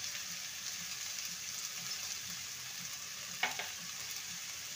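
Bottle gourd with salt and turmeric in a pan, a soft steady sizzle with faint stirring scrapes and one brief clink, fairly quiet and close.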